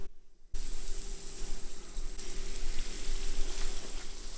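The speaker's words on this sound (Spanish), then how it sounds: "En aceite caliente empezamos por freír los rollitos." Ham and cheese rolls drop into hot oil and fry with a steady, close sizzle that bursts up after a brief quiet start and holds loud and even to the end.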